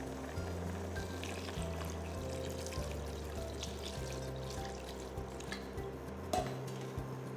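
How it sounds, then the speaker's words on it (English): Water poured into a pan of chicken stew with the chicken returned to it, a soft steady pour with faint clinks of the pot and utensils, quiet and close, no voices. "pour in enough water to cover about 3/4 up the ingredients"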